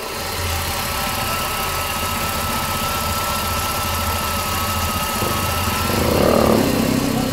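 A Volkswagen Gol gasoline engine idles steadily close up, a constant low rumble with mechanical whir, rising slightly near the end.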